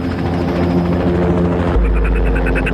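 A helicopter in a horror video game about insects thunders loudly and steadily up close, its rotor chop turning into a pulsing beat partway through.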